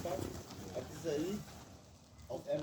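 Pigeons or doves coo softly at a backyard feeding spot, a few low calls under nearby talking with a faint outdoor background.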